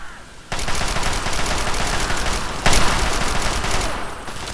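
Rapid automatic gunfire from the video game Fallout 3, loud and continuous bursts that swell sharply midway through, with no talking over it.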